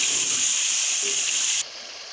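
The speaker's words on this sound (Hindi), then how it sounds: "अब हम इसमें आलू को शामिल करेंगे और थोड़ी देर के लिए भून लेंगे।" Potatoes sautéing in a pan for aloo gobhi curry give a steady, close hiss and sizzle that holds evenly, then eases slightly near the end.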